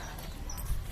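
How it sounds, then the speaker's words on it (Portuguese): A mare's hooves clip-clop faintly on the ground in a few low, dull thuds, quiet and somewhat distant, with no voices over them. "Mostrar a égua."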